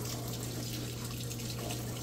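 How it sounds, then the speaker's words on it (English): Samsung washing machine filling with water during its cycle, a steady, even rush of flowing water with a low constant hum underneath, alone and unbroken. "All right, filling up with water."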